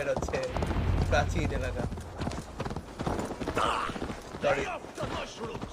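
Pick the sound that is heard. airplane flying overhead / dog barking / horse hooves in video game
horse hooves in video game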